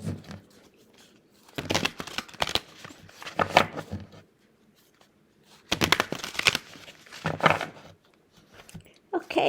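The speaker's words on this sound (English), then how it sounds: "Let's give these a good ruffle shuffle." Papery riffle shuffles of a card deck come in several bursts, each a rapid fluttering crackle lasting about a second, separated by quiet gaps.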